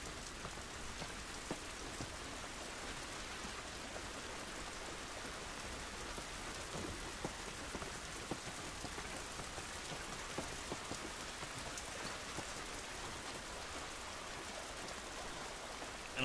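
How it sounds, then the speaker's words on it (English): Steady rain falls outdoors in the video game The Last of Us, a soft constant patter of drops on surfaces with scattered sharper splashes, even and fairly faint throughout. "This rain ain't gonna do us any good."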